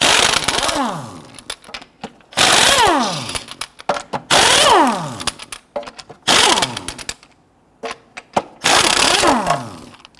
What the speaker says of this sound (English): Using a 22mm socket, you can loosen and remove your lug nuts.